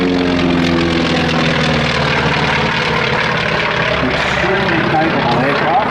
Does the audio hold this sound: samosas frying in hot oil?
no